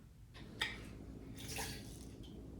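Lime juice squirts into a bowl of water for cleaning oxtails, giving a short wet spurt followed by a longer splashy burst, close and fairly quiet over a faint kitchen hum.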